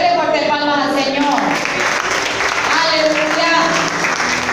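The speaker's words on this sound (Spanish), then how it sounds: "Dele fuerte palmas al Señor." Church congregation applauding during a sermon, sustained loud clapping from a crowd with voices and musical tones running underneath throughout.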